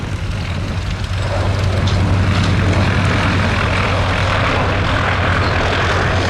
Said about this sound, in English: This is its final pass, the de Havilland Vampire.